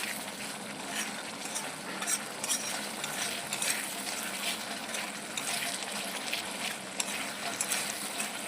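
A mustard masala, made without tomato, is sautéed in oil until the oil separates, with a continuous crackling sizzle and small bursts of spoon-stirring, close and fairly quiet, with no talking.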